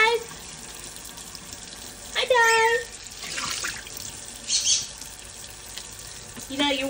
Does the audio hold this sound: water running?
yes